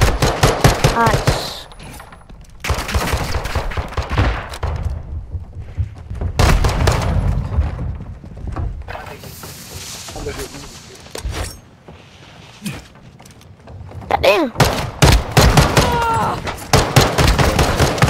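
Video game gunfire crackles in dense automatic bursts and single shots, loud and close, mixed with a player's voice talking over the action.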